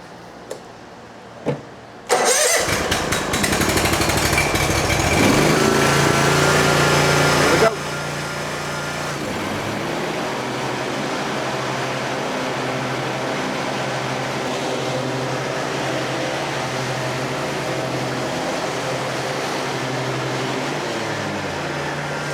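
A Gravely zero turn mower engine is cranked and catches around two seconds in, running loudly and steadily at first, then settling to a lower, even idle with a rhythmic pulsing hum.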